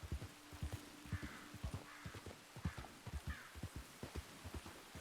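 A horse in a roleplay video game trots along with steady, evenly spaced hoofbeats, moderately close and fairly quiet, against a soft background hum with no talking.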